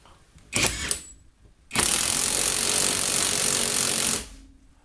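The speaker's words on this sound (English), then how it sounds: "When your bolt is tight, well, stubborn, and it won't come off, it will give this impact wrench" RUYIKA 21V cordless impact wrench working a stubborn, tight bolt loose: a short rattling burst, a brief pause, then a loud, sustained hammering run of about two and a half seconds that stops abruptly, heard close with no talk.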